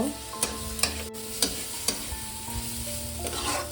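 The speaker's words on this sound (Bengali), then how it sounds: "2 চামচ টক দই, দিয়ে আমি ভালো করে আবারও কষিয়ে নেব।" Onion and papaya masala with two spoons of sour curd sizzles in a pan while a spoon scrapes and stirs it in regular strokes, with no voices.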